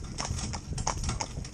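A young cob's hooves clip-clopping at a steady trot, an even rhythmic series of hoof strikes heard fairly close.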